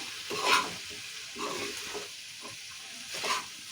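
Broad beans being stirred and fried in oil crackle with a soft sizzle, with a few louder scraping strokes of the spoon standing out, close by and without voices.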